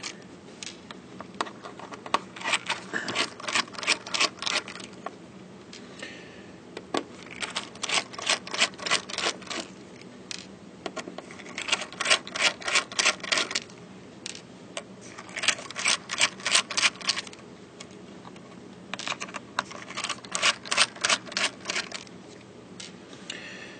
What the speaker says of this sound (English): So we'll just take the screws out.